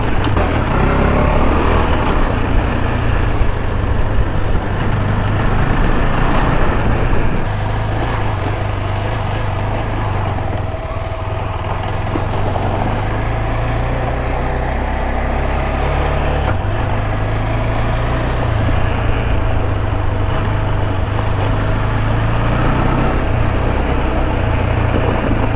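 A KTM Adventure 390 motorcycle ridden on a dirt track with traction control off, its engine droning loudly and steadily, revving up and easing off as it slides through the ride.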